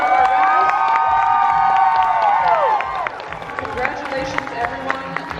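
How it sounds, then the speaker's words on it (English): A crowd cheers and claps for competitors at an anime festival in Orlando, with loud overlapping shouts and whoops over scattered applause and a voice on a loudspeaker. "Yes, let's give a big round of applause to all of our competitors."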